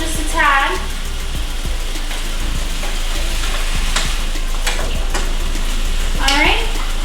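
Shrimp and potatoes tossed in a hot pan sizzle and fry steadily, with a few sharp scraping stirs of a spoon against the pan near the start and end.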